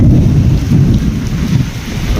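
Heavy rain pours down in a violent windstorm, with deep, continuous thunder rumbling loudly beneath the dense downpour and no voices.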